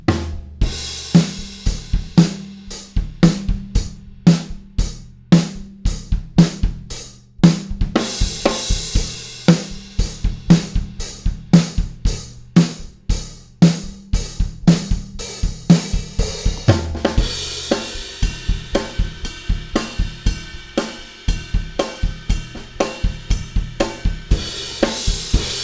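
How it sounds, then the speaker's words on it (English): A drum kit plays a steady quarter-note groove on the hi-hat with kick and snare underneath, crisp regular hits repeating in even time, close and loud, continuing for a long stretch with a brief fill partway through. "We're playing just quarter notes, 1, 2, 3, 4 in the hi-hat"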